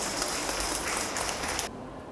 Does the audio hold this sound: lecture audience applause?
yes